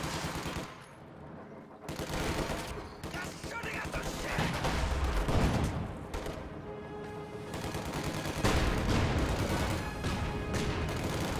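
Rapid machine-gun bursts and heavier cannon shots crackle through a WWII strategy video game battle, with a StuG assault gun firing at guards amid dense, overlapping gunfire that swells and eases over the span.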